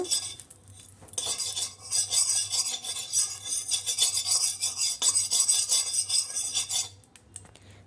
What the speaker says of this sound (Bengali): কড়াইয়ে দেব সামান্য পরিমাণ ঘি ঘি চারপাশে একটু স্প্রেড করে দেব